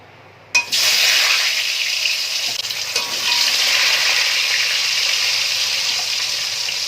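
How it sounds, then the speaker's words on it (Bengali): A sudden loud burst of sizzling as bata fish hits hot oil, then a steady, close crackling fry that continues throughout. "এবার মাছগুলো ভেজে নেওয়ার পালা"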